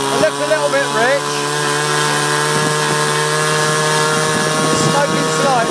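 A glow engine on an Alpha 40 Trainer model airplane runs at half throttle, slightly rich, as a loud, steady, close high-pitched buzzing whine that holds throughout, with someone talking over it.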